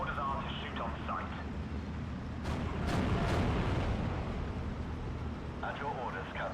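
Tank and artillery gunfire from the Normandy 1944 strategy game Sudden Strike, with a couple of sharp blasts in the middle over a constant loud rumble of battle, and brief bursts of voice near the start and end.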